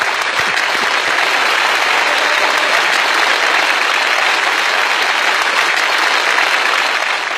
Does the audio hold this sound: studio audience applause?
yes